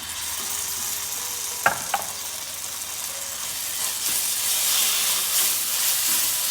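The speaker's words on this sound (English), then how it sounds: "And to this, I'm adding garlic ginger paste." Garlic ginger paste sizzles in a hot pan with a continuous close frying hiss, broken by a couple of sharp utensil taps and faint stirring scrapes.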